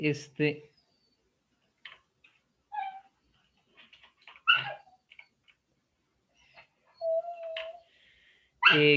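A dog whimpers indoors in short, scattered whines and squeaks separated by silences, with one longer drawn-out whine near the end.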